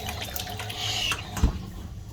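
Water draining from a Fisher and Paykel MW511 washing machine, a continuous rushing, gurgling flow with a brief thump midway, fairly close.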